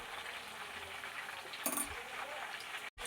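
Chicken fries in hot oil for dragon chicken, giving a steady low sizzle with a brief louder crackle midway and a short break near the end.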